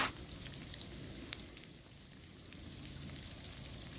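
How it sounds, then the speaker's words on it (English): Heavy rain pours during a South Carolina winter blizzard, a dense uniform hiss with a few faint ticks and patters scattered through it, fairly distant and steady, with no voices. "it's just heavy rain right now"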